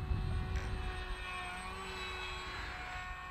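Small RC F-35 style pusher model plane with its motor held at about a third throttle, giving a steady, close airy propeller whine with a constant tone and no speech.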